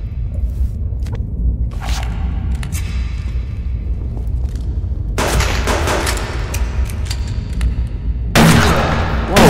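Gunfire bursts in the underground cave base of the survival game Subsistence, with loud crackling volleys near the middle and end over a steady low rumble of game ambience.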